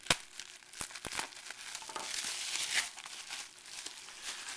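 Plastic and paper packaging from an eBay order, a keyboard for Typing of the Dead, is crinkled and torn open close up, with rustling bursts and a few sharp crackles and no talking.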